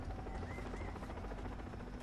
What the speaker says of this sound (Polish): jeszcze helikopter mi tutaj potrzebny